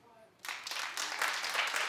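A studio audience at a daytime talk show bursts into clapping after a short quiet lead-in, a dense, fairly close wash of applause that holds steady to the end.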